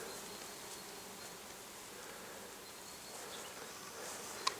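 A steady, low insect hum fills the air, like many bees buzzing together at a distance, continuous and even throughout.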